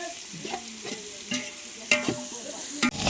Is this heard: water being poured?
no